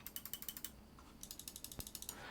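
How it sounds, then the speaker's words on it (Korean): Logitech G502 X PLUS mouse buttons click in quick repeated runs, a crisp close series of sharp taps in two bursts separated by a short pause, with no voices. "조금 더 깊게 눌러야지만 입력이 되고 눌렀을 때 달깍거리는 소리가 좀 더 강합니다"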